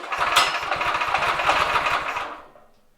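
A small drift trike engine runs with the throttle slightly open, a rapid chugging putter close by that holds steady for about two seconds and then dies away.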